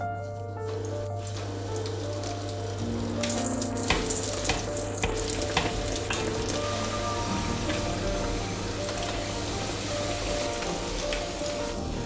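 Cheburek meat-filled pastries fry in oil about a finger deep in a pan over medium-high heat, giving a steady, dense sizzle and crackle that runs unbroken and moderately loud with a low hum beneath, and no talking.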